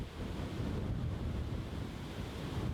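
Strong gusty wind roars and buffets steadily across an outdoor tournament course in Inverleigh, Victoria, a dense low rumble with gusty surges, close and loud, with no voices.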